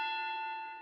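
A single struck bell marks the end of a professional wrestling match, ringing with a bright metallic tone that decays slowly, alone with no talk.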